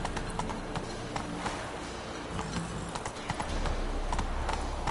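A horse gallops in The Witcher 3, its hooves clip-clopping in a fast, steady rhythm close by for about five seconds, with no talk over the hoofbeats.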